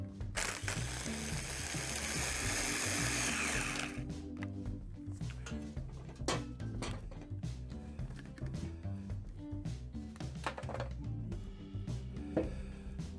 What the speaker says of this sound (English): Put the blender back on.